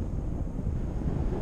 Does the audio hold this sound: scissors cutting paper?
no